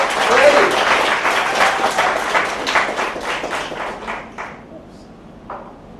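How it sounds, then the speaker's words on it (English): An audience at a science slam in San Francisco applauds a speaker, a loud burst of clapping that thins into scattered claps and fades out over several seconds. "Please, an applause."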